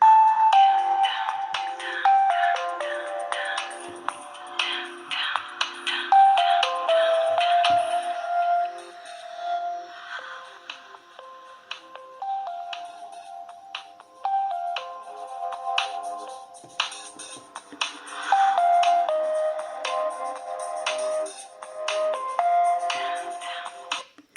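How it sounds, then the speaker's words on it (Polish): The classic ringtone of a Samsung C3530 mobile phone plays a bright, stepping electronic melody, repeating its phrase several times with short gaps, clear and fairly loud. "Ten dzwonek chyba był najpopularniejszy w Samsungach, właśnie tego typu klasycznych."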